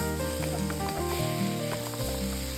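Sun-dried tomatoes are stirred into a pan of tilapia and mushroom sauce, where a loud, continuous close sizzle hisses under background music, with a few faint stirring scrapes.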